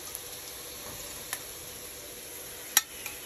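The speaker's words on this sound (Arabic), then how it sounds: "بدون ما نضيف اي مي، فقط الزبد، يعني تطبخ هاي القطع هي بالزبد مالتها" Chicken pieces cook in butter in a pan without added water, giving a faint, steady sizzle with a few soft clicks and one sharper tap from the pan.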